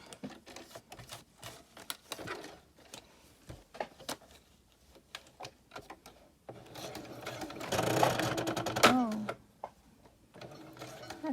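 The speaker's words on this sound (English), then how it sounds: "I'm just going to sew here in the middle" A sewing machine stitching through paper runs in short bursts of rapid mechanical stitching, close by, with quiet speech and handling noises between runs.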